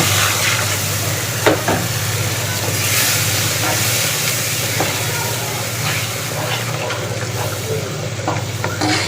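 Ginger paste, turmeric, salt, tomato, chili powder and ground coriander-cumin are sautéed in a pan, making a loud, continuous close sizzle and hiss with occasional stirring scrapes over a low steady hum.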